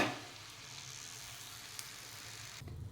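Eggs fry in a pan for Telugu-style egg curry, giving a steady, close, hissing sizzle that holds evenly for nearly three seconds before cutting off abruptly, with no talking.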